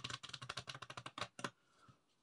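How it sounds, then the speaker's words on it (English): Playing cards, some face up and some face down, shuffled together by hand: a rapid run of crisp, close clicks and flutters lasting over a second, then two final snaps before quiet. "shuffle them together, face up and face down"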